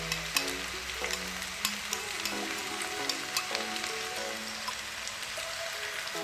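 Sauce going into a spaghetti stir-fry in a hot wok, giving a steady, close sizzle and crackle with small pops throughout; no one speaks.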